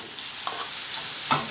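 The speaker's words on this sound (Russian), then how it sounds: "Пока у меня обжаривается лук, морковка тоже немножечко притушится" Chopped onion and grated carrot fry in oil in a pan, giving a continuous close sizzle with two short stirring scrapes partway through and near the end.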